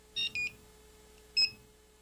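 A USB QR code reader beeps as it scans: two quick high electronic bleeps, then a single beep a moment later, each clear against a quiet room.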